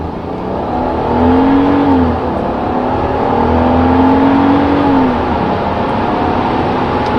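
A Mercedes SL600 R230 with a bi-turbo V12 accelerates hard from a standstill, heard from inside the cabin as a deep, loud engine drone that rises through two gear changes and then settles into a steady whir.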